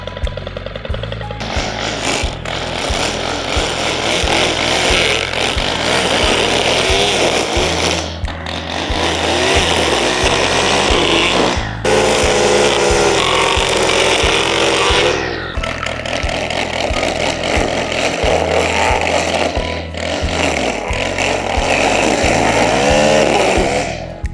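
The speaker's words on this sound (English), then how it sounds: "Can these blocks, these landscape edging options withstand a weed whacker?" A gas-powered weed whacker runs continuously at high, buzzing revs, loudly revving and dipping as its line strikes landscape edging blocks outdoors, with brief throttle drops between bursts.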